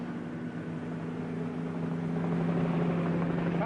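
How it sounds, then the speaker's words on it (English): A police helicopter whirls over a city, its rotor and engine making a steady, continuous drone that grows slightly louder over several seconds, with no voices. "Whirling over the city, a police helicopter reports traffic movement to the operations center."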